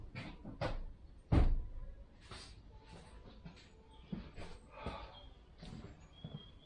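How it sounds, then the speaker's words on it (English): A door on a 1990 left-hand-drive Range Rover being shut, with one solid, close thud standing out among quieter clunks and handling noises in a workshop. "Door needs to close."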